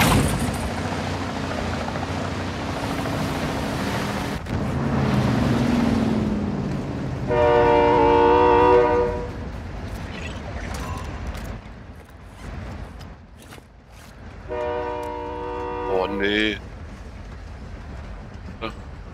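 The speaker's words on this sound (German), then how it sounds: "Ja, ich wollte aufspringen beim Zug." A train passes in Call of Duty Modern Warfare, with a rumbling rail roar and two separate bursts of a horn or whistle, loud and nearby, mixed with other game sounds.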